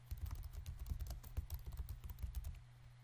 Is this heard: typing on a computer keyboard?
yes